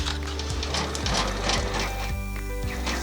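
An embroidery machine runs a placement stitch for a centre panel with rapid, steady, rhythmic needle clatter, loud and close, continuing without pause.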